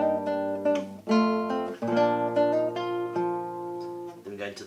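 A classical guitar plays a phrase from Albéniz's Sevilla, a run of clear plucked notes with ringing bass in several bursts separated by short gaps, close and fairly loud with no talking.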